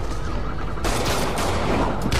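Gunfire in Marvel's Spider-Man, a dense continuous crackle of rapid shots that gets sharper and louder partway through, with no voices.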